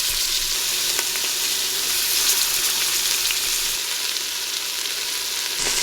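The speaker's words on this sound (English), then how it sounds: "I'm gonna brown my meat now." About two pounds of beef browning in an Instant Pot gives off a loud, steady sizzle and crackle that runs unbroken from start to finish, close up and with no talking.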